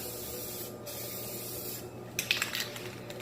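An aerosol can of spray paint hisses in short bursts during a table restoration, a soft, airy spray that is close and fairly quiet, with faint rattling clicks partway through.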